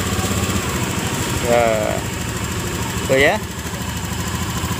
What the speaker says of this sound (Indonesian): Kita hidupkan dulu untuk mesinnya